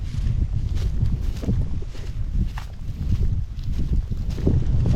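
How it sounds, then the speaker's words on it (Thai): Steady low wind rumbling and buffeting across open farmland, continuous with gusty surges, no voices. "เดินมาอาจจะได้ยินเสียงลมผ่าน"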